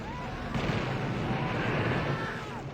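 Napalm launcher alternate fire in the game Blood, a loud roaring burst with rumbling explosions and fiery crackle sustained for a couple of seconds.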